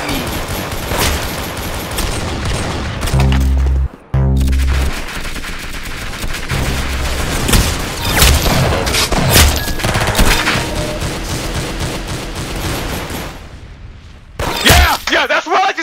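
Rapid bursts of gunfire from the Roblox shooter game Arsenal, loud and dense with repeated shots and impacts through nearly the whole stretch, with brief dropouts between volleys.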